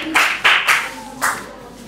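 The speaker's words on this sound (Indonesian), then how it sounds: "kita kasih apresiasi tepuk tangan" Classroom audience clapping in appreciation after a group presentation, a few short bursts of hand claps from a small group, close and brief.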